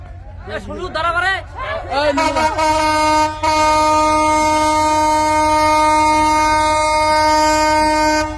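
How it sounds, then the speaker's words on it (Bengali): A loud, sustained train horn blares for several seconds with the rumble of rail traffic underneath, following a stretch of excited talk and a melodic vocal phrase. "ট্রেন থামবে মনে হয়।"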